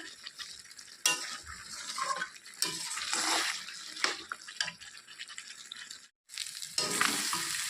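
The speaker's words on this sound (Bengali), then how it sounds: "এখন একটু ভালো করে কষিয়ে নেব লাল লাল করে যতক্ষণ না মশলাটা ভাজা ভাজা হচ্ছে" Mutton and spice masala frying in a pan while being stirred and scraped with a spoon: irregular close scraping strokes over a soft sizzle, with a brief pause near the end, no talking.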